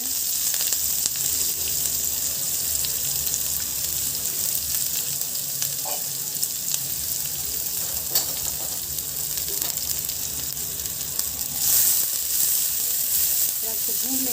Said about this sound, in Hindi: हमने ऑयल को गरम कर लिया। इसमें डाल दिया थोड़ा सा जीरा और अब इसमें मीडियम साइज के प्याज कट कर देते हैं।